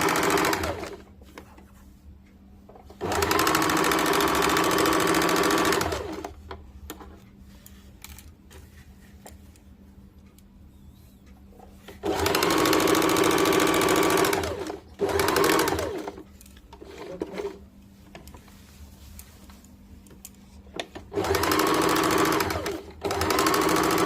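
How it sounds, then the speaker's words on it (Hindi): Sewing machine stitching double seams half an inch in on a bias-cut churidar runs in several bursts of steady whirring, loud and close, separated by quiet pauses. "अब यहाँ पे 1/2 इंच पे दोनों पे डबल सिलाई डाल देंगे।"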